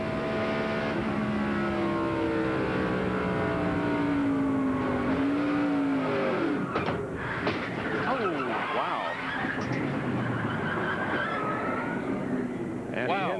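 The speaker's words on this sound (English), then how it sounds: "Rich Bickle has spun up in turn number 3, and here it is from his onboard camera" Onboard a NASCAR stock car at the 1997 Brickyard 400 as it spins in turn three: the engine's tone glides down, then turns ragged and scrubbing with tire noise, loud and close, while a commentator talks over it.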